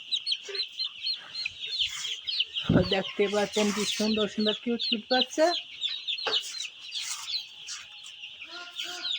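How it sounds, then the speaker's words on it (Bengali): Chickens cluck and peep busily in a pen, with dense high chick chirps throughout and lower repeated clucks in a burst, while a person talks over them. "দেখছেন মুরগিগুলো কি সুন্দর খেলা করছে"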